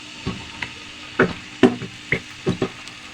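Carrots frying in a pan as tomato sauce goes in and gets stirred, a series of close, short scraping and tapping strokes over a faint background hiss, no voices.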